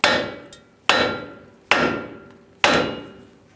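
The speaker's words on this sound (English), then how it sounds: "you can use a special front end tool to press the ball joint out of the knuckle, or just giving it a tap with a hammer" Four sharp hammer blows strike a steering knuckle to knock the ball joint loose on a 2011-2018 Ram 1500 front end, each a loud metallic crack with a ringing decay, spaced evenly under a second apart.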